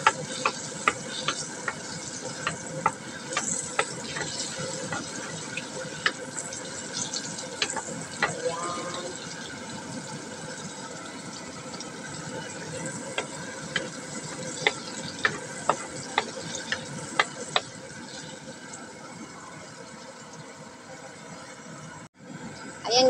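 Shrimp frying in butter in a pan, a steady broadband sizzle running throughout with scattered sharp pops and crackles, easing slightly toward the end.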